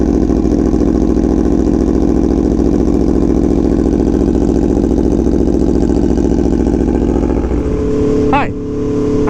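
A 2017 Aprilia Tuono V4 1100 Factory motorcycle idles loudly and steadily right up close after a cold start, its V4 engine holding a deep, even burble before a couple of quick revs near the end.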